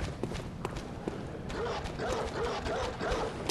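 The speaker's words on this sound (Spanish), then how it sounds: "Había un perro más." Dog barking in the horror action game Bloodborne, a few short yips and barks over a dense, noisy game soundscape with rustling and movement.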